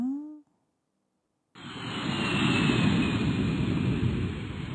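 Airplane at an airport, a broad jet rumble that starts abruptly and swells to a loud, steady roar, preceded by a short voice and a pause of silence.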